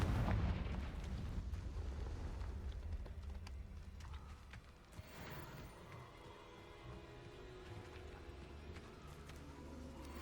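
A fiery Confringo blast curse from Hogwarts Legacy explodes with a booming, crackling burst at the start, then decays into a rumbling wash and lingering game ambience.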